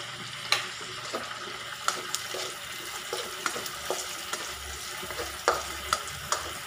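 Onions stirred and frying in a pan: a soft steady sizzle under repeated sharp scrapes and clacks of the stirring utensil, close and fairly regular, with no talking.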